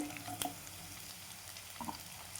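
Onions tipped into a pan of roasted garlic frying in oil, a soft steady sizzle with a couple of light clinks, faint and close.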